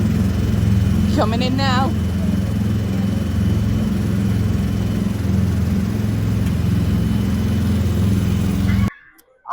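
Small Autopia ride cars at Disneyland Paris run their engines in a steady, nearby droning hum with a low, even putter, while people talk over it and a voice chirps briefly.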